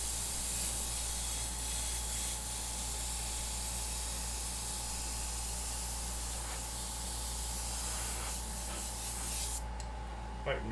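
An airbrush spraying white paint on a Grim Reaper custom paint job: an unbroken, close, even hiss of air and paint that runs for about ten seconds before it cuts off sharply near the end.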